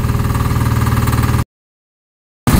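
An old 8 HP outboard engine on a fiberglass boat chugs with a rapid, even, loud putter, cuts to silence for about a second, then resumes.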